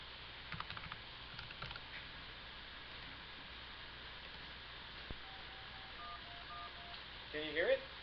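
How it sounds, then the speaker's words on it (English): Telephone speakerphone dialing tones on a virtual circuit-switched network, a short series of faint, evenly spaced beeps near the end of a quiet stretch with low background hiss. "So in theory, I should be able to do a speaker dial."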